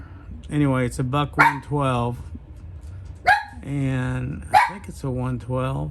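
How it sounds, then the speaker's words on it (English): Dogs bark indoors in a few sharp bursts that break through someone talking close to the microphone. "My dogs are gonna bark for a minute."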